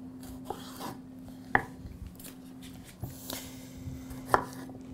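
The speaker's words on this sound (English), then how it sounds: "I'm going to just slice some nice fresh ripened tomatoes" A knife slicing fresh ripe tomatoes on a board, a few soft separate cuts with light taps, close and quiet, with no talking.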